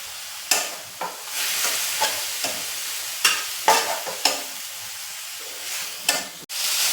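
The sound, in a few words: stir-frying fenugreek leaves (methi) in a pan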